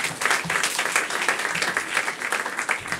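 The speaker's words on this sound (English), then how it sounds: "So can we have a round of applause for everyone at the Kelly Center?" Audience applause fills a school arts showcase hall at Delaware Valley Friends, steady, dense clapping from a crowd, loud and continuous for the whole stretch with no talk over it.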